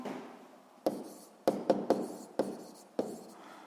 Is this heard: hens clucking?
no